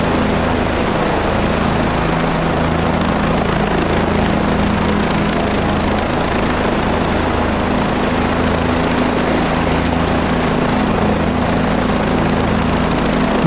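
A helicopter in a flight video game runs at full throttle with a loud, steady engine and rotor drone throughout, close and unbroken, with no talking.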